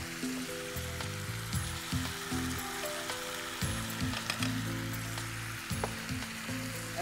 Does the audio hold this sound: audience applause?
no